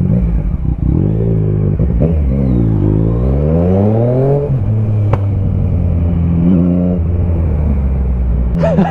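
Motorbike engine revving and accelerating through heavy Sydney traffic, loud and close, pitch climbing and falling through several gear changes over a steady low rumble, with a brief sharp click partway through.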